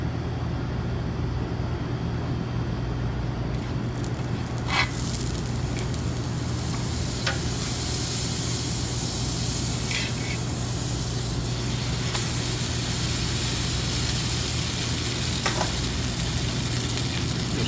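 A batter-dipped Monte Cristo sandwich frying in a pan, a loud, steady sizzle and hiss close by, with a few brief sharper spits and crackles along the way.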